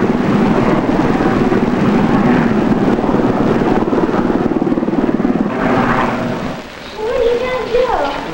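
A steady, loud rescue helicopter rotor drone in a hospital parking lot, with people talking over it, fading toward the end as voices take over.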